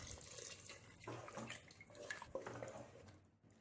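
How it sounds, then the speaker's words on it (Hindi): Water is poured into a pan of stuffed eggplant masala, a soft continuous splashing pour close by that fades toward the end. "इसमें पानी डाल देते हैं।"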